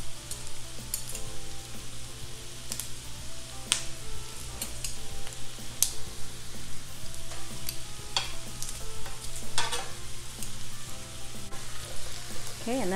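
Two cloves of crushed garlic frying with soft vegetables in a pan, a constant close sizzle with scattered scrapes and taps of a utensil stirring.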